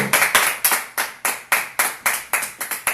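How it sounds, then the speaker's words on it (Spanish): A church congregation claps in a steady, rhythmic beat, about a dozen loud, close hand claps evenly spaced over a few seconds, with no talking. "Dale un aplauso, porque el Señor tiene el único poder para hacerlo."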